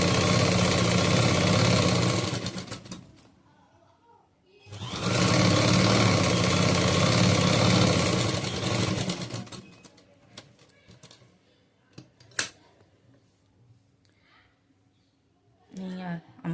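A sewing machine motor runs loud and continuous while stitching a sleeve on a churidar made from a saree, in two long bursts separated by a pause, then gives way to quieter handling noise and a few sharp clicks.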